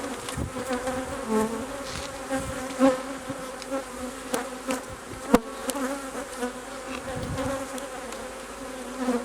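Honey bees buzz steadily around an open hive while a super is added, a close, dense droning hum with individual bees passing near; no talk is heard.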